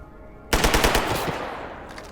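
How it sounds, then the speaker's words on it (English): Enemy gunfire in the video game Stalker GAMMA: a sudden loud burst of rapid automatic shots after a quiet start, with dense cracking reports that trail off into echoing decay. "I seem to actually be able to see the guys who are shooting at me."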